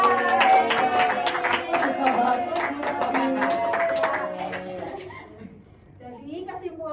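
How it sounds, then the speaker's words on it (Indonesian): Classroom applause during a microteaching lesson, a burst of scattered hand clapping from students mixed with voices and talk, fading after about five seconds as speech continues. "tepuk tangan untuk Mas Hisham dan Mbak"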